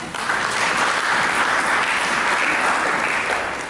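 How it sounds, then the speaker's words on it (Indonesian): A church congregation at a Sunday service claps together in a dense, sustained round of applause that fills the room for several seconds, loud and continuous with no speech over it. "Mari kita sambut dengan tepuk tangan."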